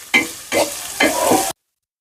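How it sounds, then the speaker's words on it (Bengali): Garlic and onions frying in hot oil, three short close bursts of sizzling and stirring in quick succession, then silence. "রসুনটা আমার আধা ভাজা হয়ে গেছে, এখন আমি পেঁয়াজ ফেলার দিয়ে দিলাম।"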